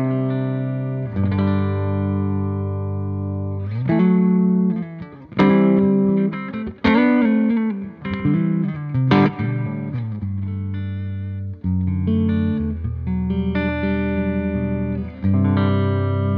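Electric guitar played through a Victory V4 amp on its clean channel, with generous reverb: sustained chords and single notes ring out in phrases, close and loud, with brief gaps between strums and no talking.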